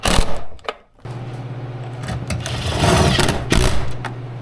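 A power tool drives bolts back into a Chevy/GM truck door during a door handle replacement, giving a short burst and then a steady buzzing whir lasting several seconds, loud and close.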